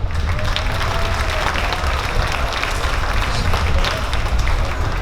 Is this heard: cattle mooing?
no